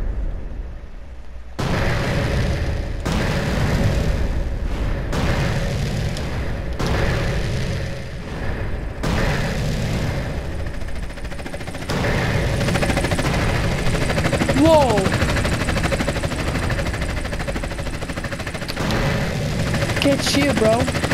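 A helicopter fight in GTA San Andreas, with machine-gun bursts, booming explosions and rotor rumble coming in loud repeated waves over roughly twenty seconds.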